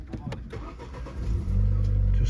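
Ford Focus 1.5T EcoBoost ST-Line petrol engine with a manual gearbox cranking and firing up, a few clicks and turnover bursts followed by a loud, steady idle, close by.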